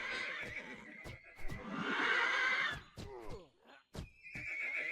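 Horses in the strategy game 0 A.D. let out loud whinnies and neighs, one after another, mixed with hoof clip-clop and sharp battle clatter in a busy game scene.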